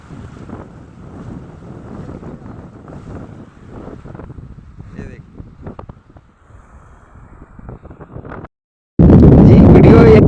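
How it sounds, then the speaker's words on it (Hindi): Sudden flood water rushing over previously dry ground, a continuous turbulent roar with wind buffeting the microphone, then a much louder burst of rushing water near the end after a brief silence. "आज देखिए 2 मिनट के अंतराल में जिस आक्रामक अंदाज में ये बाढ़ जो आ रहा है"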